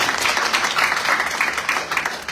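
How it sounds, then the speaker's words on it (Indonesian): A church congregation applauds at an anniversary service, steady dense clapping from many hands that fills the whole moment without a break. "Yang percaya berikan tepuk tangan untuk Tuhan"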